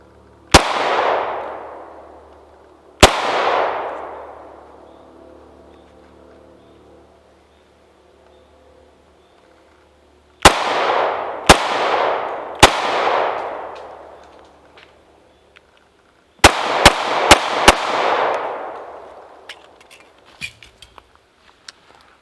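Shots from an XDM 9mm pistol at an outdoor gun range: about nine sharp, loud reports, first spaced widely, then in quick clusters, each followed by a fading echoing tail.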